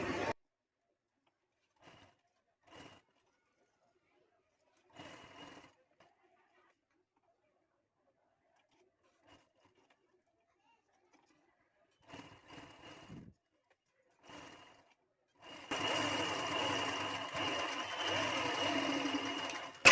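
A sewing machine stitches piping onto a dress neckline, running steadily for a few seconds near the end after scattered small clicks and handling sounds, close and clear.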